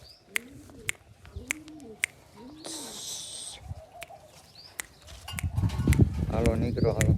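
Peacock-feather fancy pigeons coo softly in a few rounded, repeated calls close by, with sharp taps and a burst of wing flapping, then louder rustling and voices of people talking near the birds.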